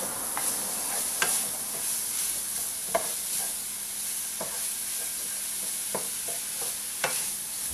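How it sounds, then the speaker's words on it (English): Sausage sizzling steadily in a pan while frying in its own fat, with a continuous hiss broken by occasional sharp pops and spatters, close and alone. "The sausage should have enough of its own fat content to fry up really nice."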